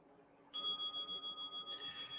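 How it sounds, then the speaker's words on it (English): A meditation bell rings once with a clear, sustained tone that hums steadily and fades slowly during a quiet mindfulness session, with no other sound over it. "There's that bell, that wonderful bell, to remind us and wake us up from our thinking"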